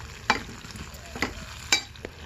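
Jowar rava upma being stirred in a pan, a few scraping strokes over a soft sizzling cook, close and fairly quiet.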